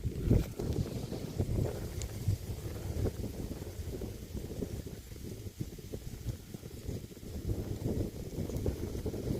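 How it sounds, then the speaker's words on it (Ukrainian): A strong wind blows across an open sorghum field during crop desiccation by an agricultural drone. It roars and buffets the microphone in uneven low gusts throughout, with no one speaking. "Вітер, звісно, здоровий вже піднявся"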